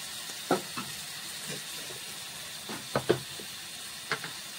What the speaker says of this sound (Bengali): এখন আমি এই সাইড দিকে মশলা দিয়ে দিচ্ছি। পেঁয়াজ, রসুন, আদা, কাঁচামরিচ বাটা দিয়ে দিলাম।